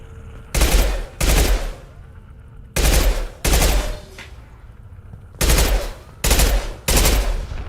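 Pistol fire in the video game Mass Effect 2: six loud, sharp shot bursts fired in pairs, each cluster separated by brief quiet gaps, close and punchy with no talk.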